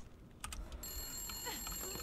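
An old telephone rings in the video game The Long Dark, giving a faint, continuous bell trill behind a few soft clicks and thumps of movement, with no speech.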